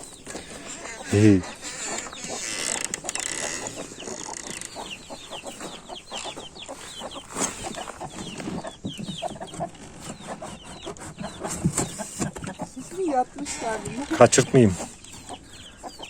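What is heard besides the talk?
chickens clucking in a village coop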